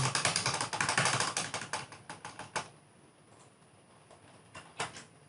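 Rapid typing on a computer keyboard clatters in a dense burst, then thins to a few scattered keystrokes and a firmer final press, heard close and without speech.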